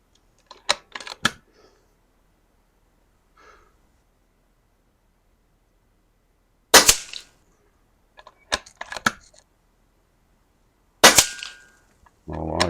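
A Kalibrgun Cricket 2 air rifle fires several sharp, crisp shots at a target, spaced apart with quiet gaps between them and small mechanical clicks in between.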